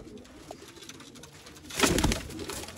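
Zeera pigeons from cross-bred pairs coo in a home loft in Sialkot. A single soft coo comes early, followed later by a louder, fuller burst of cooing close by.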